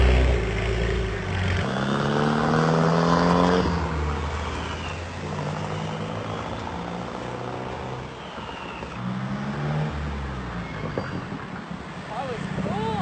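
The turbocharged engine of a Mexican supercar revs loudly and close by, its pitch rising and falling in sweeping surges with turbo whoosh and whir, while a voice speaks over it.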